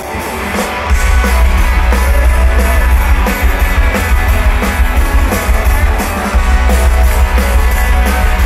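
Loud, dense live rock music at the FM4 Frequency Festival, St. Pölten, Austria, with distorted guitars and pounding drums playing continuously, a full band sound with steady beats throughout.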